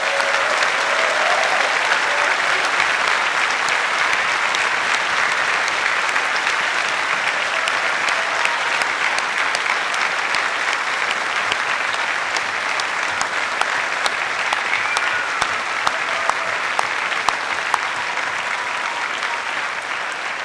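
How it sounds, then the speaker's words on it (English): Graduation ceremony crowd in a large hall applauds the university staff, a long, steady wash of dense clapping that holds at an even level for about twenty seconds, with occasional sharper individual claps. "let me call on you, our students, to join me in applauding our outstanding staff"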